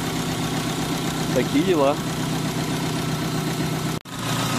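A car engine fitted with a homemade turbo intake manifold idles steadily while warming up, a constant close drone under someone speaking briefly, then a sharp cut near the end.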